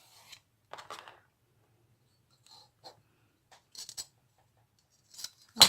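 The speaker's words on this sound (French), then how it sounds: "Je vais tout venir découper au scalpel." A scalpel slices through paper in a few faint, brief scratchy strokes separated by quiet gaps, with a sharper, louder cut at the very end.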